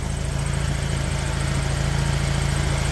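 Turbocharged Honda K24 engine swapped into a Toyota Camry, idling steadily with a constant low hum and an even, unbroken drone throughout, no voices.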